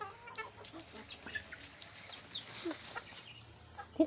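Chickens cluck softly in the background with faint scattered chirps, then a louder sharp cluck at the very end.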